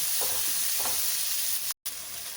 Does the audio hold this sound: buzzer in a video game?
no